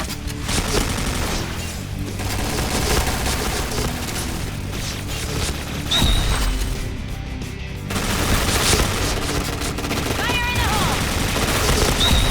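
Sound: HK-417 gunfire in Point Blank video game

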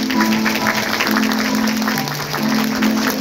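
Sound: applause at wedding

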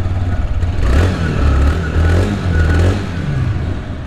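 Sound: motorcycle exhaust note revving

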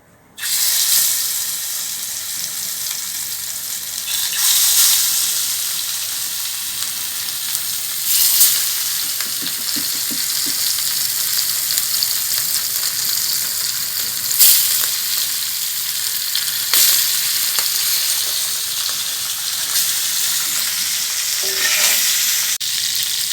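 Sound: rohu fish pieces frying in hot oil

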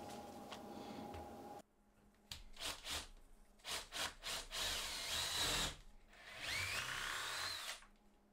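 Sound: drilling a hole in a display

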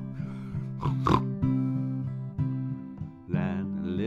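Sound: pig oinking

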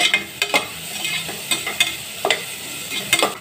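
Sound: onion being sautéed and stirred for vegetable biryani

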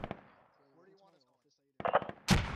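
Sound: grenade explosion in video game Squad

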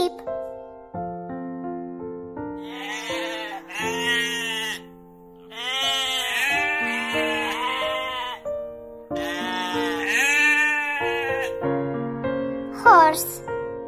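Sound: sheep bleating

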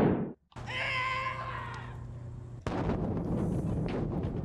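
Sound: bomb explosion in Philips CD-i lightgun video game

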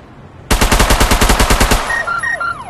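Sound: automatic gunfire in VR video game Battle Glide

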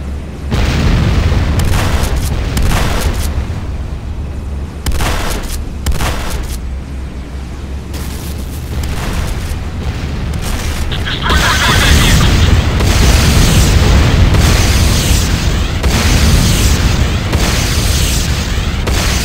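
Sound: explosions of a building under attack in the video game Renegade

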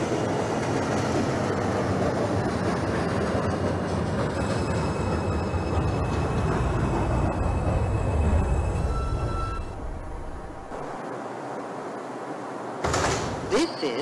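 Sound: subway train running, from OpenBVE train simulator game

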